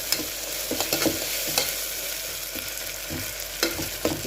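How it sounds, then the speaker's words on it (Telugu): Mutton frying in a pan gives a steady, close sizzle, broken by a few sharp scraping stirs of a spoon against the metal. "ఇది పచ్చివాసన పోయిందాక బాగా వేయించుకోవాలి"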